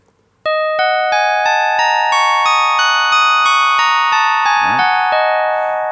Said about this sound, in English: So the blues scale sounds like this